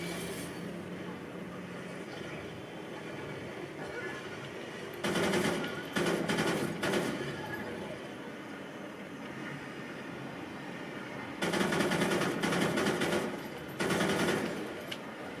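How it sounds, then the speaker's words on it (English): Gunfire in a PC video game, two loud bursts of rapid automatic shots separated by a quieter stretch of game ambience. "I guess I'll shoot some stuff over here now."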